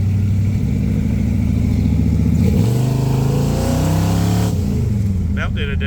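A 429-powered 1966 Ford Fairlane 500 accelerates hard nearby, its loud V8 roar climbing through the revs, easing briefly and then pulling again, with a voice heard near the end.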